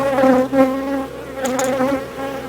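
Honeybees in a weak hive colony that will not survive the winter buzz steadily up close, a dense droning hum with shifting pitch that continues throughout.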